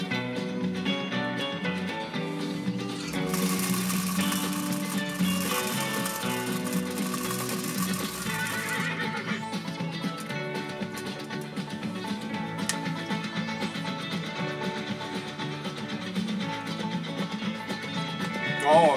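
A 1935 Industrial Singer 95-60 sewing machine stitches through three layers of bubblegum material, giving a steady, continuous mechanical whir with a denser stretch early on, and no talking over it.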